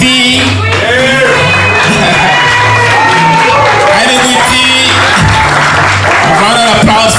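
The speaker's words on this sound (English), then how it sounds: "A round of applause for Guity." Audience at the Chatoyer Awards ceremony honoring Garifuna men applauding and cheering for an honoree, dense sustained clapping with whoops and shouts, loud and close, with a voice speaking over it.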